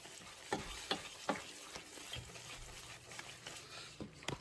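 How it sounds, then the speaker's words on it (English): A spoon stirs German chocolate cake batter in a bowl, giving soft scraping, clicking strokes at an irregular rhythm. The sound is close but quiet, with no talking. "Try to get this stirred in as good as possible."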